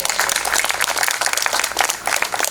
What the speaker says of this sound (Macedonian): Еден голем аплауз пред да почне Драган, ајде.